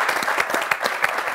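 An audience breaks into applause, dense rapid clapping from many hands, loud and close, steady throughout the short moment.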